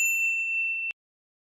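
A single clear bell ding rings out alone, bright and sustained, then cuts off abruptly after under a second.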